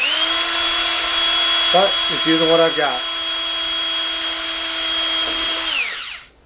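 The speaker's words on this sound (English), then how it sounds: "So we're going to continue drilling these holes." A power drill whines steadily at a constant pitch for several seconds while drilling holes in a tarantula sling enclosure, then spins down, while a person talks briefly over it.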